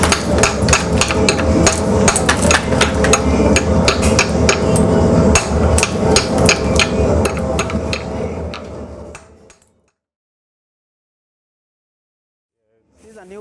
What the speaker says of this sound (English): Now I'm going to chip it out using my chipping hammer.